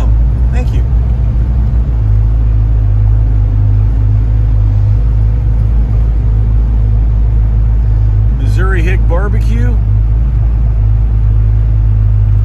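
A constant loud low engine and road rumble from inside a car driving along Route 66 through Cuba, Missouri, with a voice speaking briefly over the drone.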